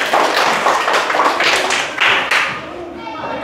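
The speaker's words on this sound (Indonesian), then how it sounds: "tepuk tangan" A classroom of pupils claps together during a primary school lesson, a loud burst of many hands in quick uneven rhythm. It fades out toward the end into room noise.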